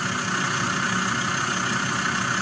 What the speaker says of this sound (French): avec le bruit du moteur